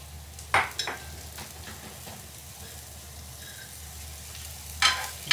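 Chili peppers sizzle as they are stir-fried in a pan for mackerel miso pasta, a soft steady hiss broken by a couple of sharp utensil clatters against the pan.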